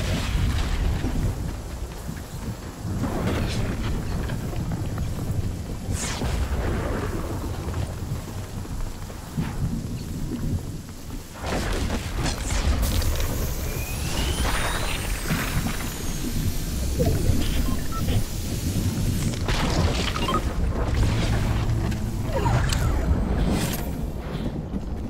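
Storm in the Fortnite video game, a continuous wash of heavy rain-like noise with deep rumbling thunder rolling underneath throughout, loud and steady with brief swells and no clear talk.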